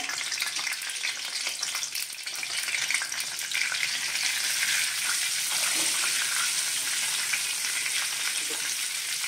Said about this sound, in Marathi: तडतडली की आपण त्याच्यामध्ये हळद टाकूया।